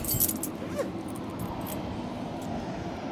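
Keys jangle briefly near the start against steady broadband background noise, with no speech, as someone grabs keys before working on an IGRF service advisory job.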